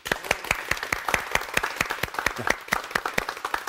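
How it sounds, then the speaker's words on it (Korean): A lecture audience claps together in a steady, rhythmic unison beat, loud and close, with sharp repeated strikes and no talking over it. "그 말에 동감하시면 박수 한번 박수"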